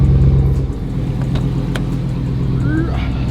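Modified Dodge Hellcats pulling onto a Los Angeles road, deep engine rumble close by and loud, with voices over it and a brief rising whine near the end.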